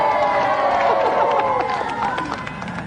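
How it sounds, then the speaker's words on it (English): A studio audience on a video game TV show cheers and applauds for the undefeated champion, a dense, continuous roar of clapping and whooping held steady at full volume throughout. "Round of applause, please, for our undefeated champion, Golden Bomberman!"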